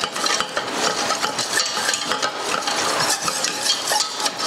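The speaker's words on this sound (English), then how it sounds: "Just amalgamate your flour into your butter and your onion." A whisk scrapes and clicks against a pan in quick, continuous strokes while flour is worked into butter and onion, close and fairly loud.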